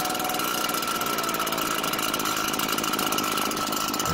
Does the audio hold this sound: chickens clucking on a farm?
no